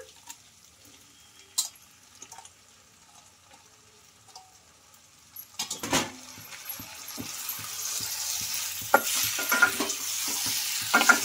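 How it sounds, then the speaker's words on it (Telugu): Pre-cooked pasta stirred with a spoon in a frying pan with spices. Near-silence gives way midway to close scraping, clinks and a soft sizzle that grow steadier toward the end, with no speech. "ఈ పాస్తాకు కూడా మసాలాలన్నీ పట్టాలి కాబట్టి ఇంకా కింద నుంచి ఈ స్పూన్తో బాగా కలిపేసుకోవాలి"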